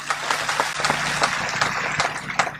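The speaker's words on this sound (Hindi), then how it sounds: "आप लोगों ने तालियों से मेरी बात का स्वागत किया है।" An audience applauding during a political speech, a dense burst of clapping from a crowd, loud and sustained with sharp individual claps throughout.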